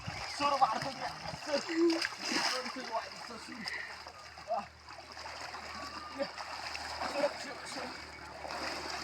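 Children swim and splash in shallow river water, with irregular splashes and running-water noise close by under steady voices and chatter throughout.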